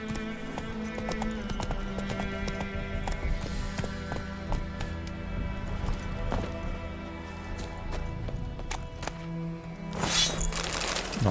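Hooves of the horse Roach in The Witcher 3 clip-clop in a quick, steady rhythm throughout, mixed with game ambience and sharp effect clicks, with a brief louder burst near the end.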